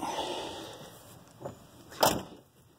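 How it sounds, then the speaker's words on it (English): Doors on a 1983 Cadillac Eldorado shut in succession, a softer thud followed by a sharper, louder slam, over faint outdoor ambience. "Doors and everything closed good."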